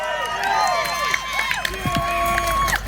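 Outdoor crowd cheering and shouting at a buhurt armored combat fight during a Viking festival in South Australia, a continuous roar of many voices with whoops rising over it, while an announcer speaks on top.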